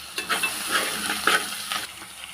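Chana dal, split chickpeas, sizzles in a hot pan as it is stirred, giving a soft continuous fry hiss punctuated by several scraping strokes of the spoon.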